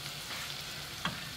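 Onion softening in a pan with milk nearby for a sorrel sauce, a faint steady sizzle with one brief scrape of a spoon near the end.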